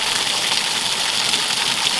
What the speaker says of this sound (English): actual waterfall all across our property